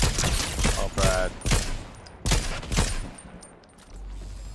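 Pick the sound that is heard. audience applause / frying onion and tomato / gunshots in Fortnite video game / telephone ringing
gunshots in Fortnite video game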